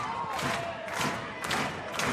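A West Texas A&M volleyball home crowd roars on its feet at set point in a college match, a dense sustained cheer with swelling shouts and a few thuds, loud and close.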